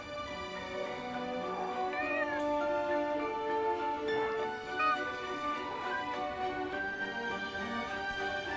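A cat meows repeatedly in the video game Forspoken, its rising and falling cries sitting over a dense, steady bed of layered game music and ambience, moderately loud throughout.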